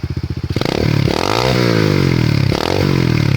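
An SSR 125cc pit bike engine idles with a rapid putter, then revs up loud and close into a sustained high-pitched roar, dipping and climbing again in two strong throttle blips.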